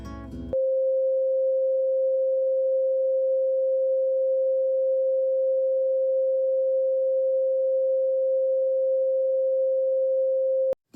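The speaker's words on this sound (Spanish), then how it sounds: "La tercera frecuencia, mi, 528 hercios, es considerada la frecuencia de transformación y milagros" A pure 528 Hz solfeggio sine tone holds perfectly steady and loud for about ten seconds after a short burst of music, then cuts off abruptly.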